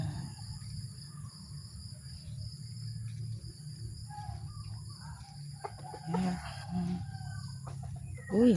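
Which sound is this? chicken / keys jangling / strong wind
chicken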